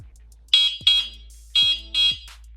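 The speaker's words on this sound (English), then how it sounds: "And this is how the horn sounds like." Tomofree YYG BR100 electric bike horn gives four short, shrill electronic beeps in two pairs. They are loud and close against a quiet background.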